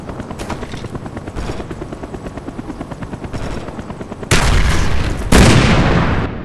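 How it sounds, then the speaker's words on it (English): An enemy Cobra attack helicopter in a video game, its rotor thudding in a fast steady pulse, then two sudden loud blasts of explosions or gunfire near the end that swamp it. "Enemy Cobra approaching."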